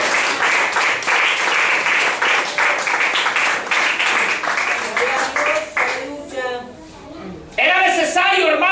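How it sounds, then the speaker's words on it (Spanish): A church congregation bursts into applause, a dense, steady wash of clapping that fades toward the end, with a preacher's voice rising over it afterward. "dale un fuerte aplauso al Señor"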